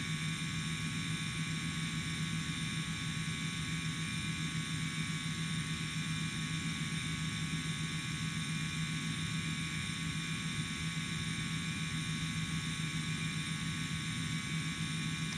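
Inside a simulated Middle East Airlines Airbus A330-200 taking off from Beirut airport in X-Plane, a steady, unbroken engine roar and rumble holds at constant loudness with a high whine layered above.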